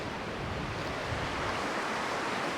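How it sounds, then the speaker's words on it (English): Ocean waves break on an Australian beach, a steady close wash of surf with wind noise against the microphone, even and unbroken throughout. "I'm going to try and catch one of these waves as it breaks"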